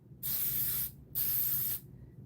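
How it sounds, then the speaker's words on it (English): An aerosol can of spray adhesive releases two sustained hissing bursts close by, each lasting about half a second to a second with a short pause between, and no one talks. "And I'm just going to spray it a little bit at a distance."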